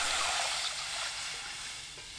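Water pours into a pot in which ten anchovies for fish cake broth have just been stir-fried over high heat, a steady broad rushing hiss close by that eases slightly as it goes, with no talking.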